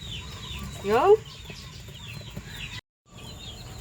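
A mother hen gives a short run of clucks up close, with a brief spoken word and some background murmur around it.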